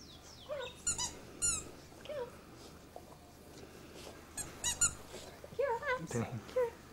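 A squeaky toy is squeezed in several quick bursts outdoors to call hungry puppies, which yelp and whimper nearby. People talk softly in the background, and the recording is faint and hissy.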